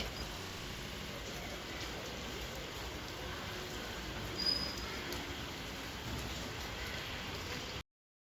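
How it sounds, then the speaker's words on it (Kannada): Steady, soft hiss of light drizzle falling continuously outdoors, with no voices. "ಜಿಟಿ ಜಿಟಿ ಮಳೆ."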